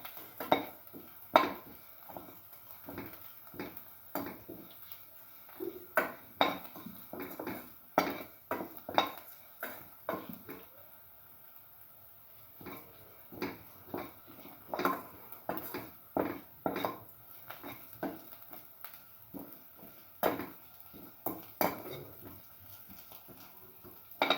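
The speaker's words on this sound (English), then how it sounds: "salt and mix thoroughly with the rest of the mixture" A spoon scrapes and clinks against a bowl while salt is mixed into a yogurt mixture, with repeated irregular taps and stirring strokes, fairly close and moderately loud, with no talk.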